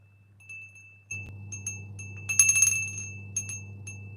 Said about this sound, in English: I feel the urge to ring the bell.